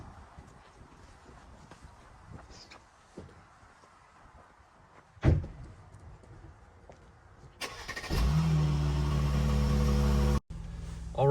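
A 2019 Mercedes E450 Convertible starts up after some interior clicks and a door thump, its engine catching with a loud whir then settling into a steady, close idle hum that briefly cuts and resumes.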